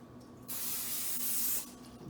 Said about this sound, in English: I'm going to get a little bit of this pan cooking oil on it,